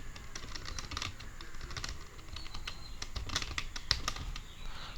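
Rapid keystrokes on a computer keyboard while a Windows command is entered, a steady stream of soft clicks with a few sharper taps, close and alone at a low level.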